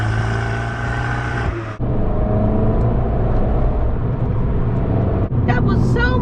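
A Fiat 500 Abarth's engine hums and drones from inside the cabin, with gear changes briefly interrupting the steady motor note, and a voice speaking over it.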